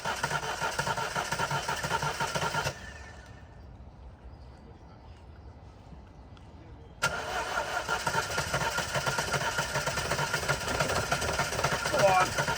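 A flood-soaked car engine cranks and catches on some cylinders, churning loudly for a few seconds, cutting out, then cranking hard again, close by, with voices nearby.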